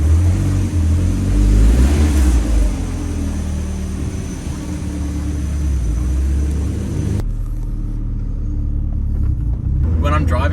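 Turbocharged Mazda MX-5 with a Garrett 2860R turbo driving, a steady low engine drone and road rumble inside the cabin, swelling briefly early on, with a person talking over it.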